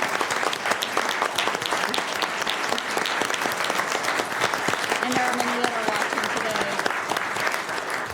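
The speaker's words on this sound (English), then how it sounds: "please stand and give them a round of applause" Audience members at a Sacramento County Board of Supervisors meeting stand and applaud, dense continuous clapping filling the room throughout, with a person speaking briefly over it.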